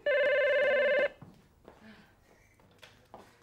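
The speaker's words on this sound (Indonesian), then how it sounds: "Wah, ada telepon tuh." A telephone rings loudly and close by in a single steady electronic burst lasting about a second, then stops, and a voice follows.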